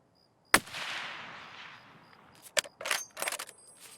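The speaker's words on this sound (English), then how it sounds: "We're going to shoot him." Gunfire in Escape From Tarkov on the Lighthouse map: one sharp, loud shot rings out and fades, then after a pause come several quick cracks and a short burst of rapid shots.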